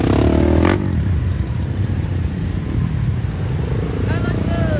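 Motorcycles rev at an outdoor election campaign rally, with a rough engine rumble and clatter under crowd noise and people talking.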